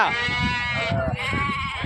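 Sheep bleat loudly and close by at a livestock market in Gudur, India, a wavering cry trailing into a second call, amid background chatter.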